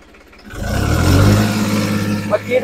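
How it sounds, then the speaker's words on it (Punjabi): A tractor engine fitted with a modified turbo pump revs up from idle to a loud, steady high-RPM roar close by, with a voice speaking over it near the end. "2500 ਤੇ ਛੱਡਦੇ ਹਾਂ, ਦੇਖਦੇ ਹਾਂ ਕਿੰਨੇ ਚੱਕਰ ਤੋੜਦਾ।"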